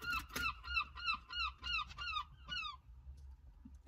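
A person imitates a seagull with about seven loud, close squawking calls in a quick rhythmic run, then goes quiet.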